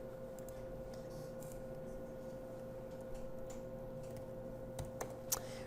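Faint, sparse keystrokes tap on a computer keyboard in a quiet room with a steady electrical hum, a few sharper clicks standing out near the end.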